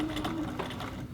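A sewing machine runs steadily, stitching the basted collar of a little girl's dress at a 4 mm stitch length, a short continuous mechanical whir close by with no talking.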